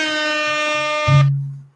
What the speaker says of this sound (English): Air horn is breaking news.